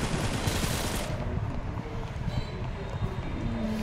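Gunfire in a survival battle royale video game, a dense dull rattle of rapid shots running steadily throughout at moderate level, with faint game ambience and no clear talk.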